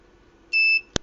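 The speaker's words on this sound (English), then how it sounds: "Buzzer." An electronic buzzer on an ESP32 project board gives one short, clear, steady beep, close and loud, followed by a brief click.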